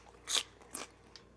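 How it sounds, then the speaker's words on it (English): Someone bites into a cold, raw bell pepper, giving two sharp, close crunches and a fainter third crunch in a quiet setting. "I almost don't even want to bake the bell pepper because it's just so good,"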